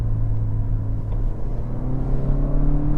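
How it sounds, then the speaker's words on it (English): A 2025 Lexus UX300h hybrid engine revving as it shifts down through the gears, a loud, close, steady cabin drone with the pitch of the revs rising gradually and no talking. "it defaults to a higher engine RPM and is a little bit faster to get to those higher revs"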